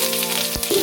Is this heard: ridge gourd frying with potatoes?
yes